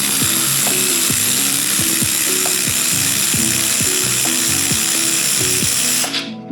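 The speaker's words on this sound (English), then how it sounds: "So let's just get this bolt out." Rapid ratchet clicks ring out in repeated bursts, close and loud, as a ratchet wrench works a tight bolt loose on a Datsun 240Z during a turbo 1.5JZ engine swap, with no talking.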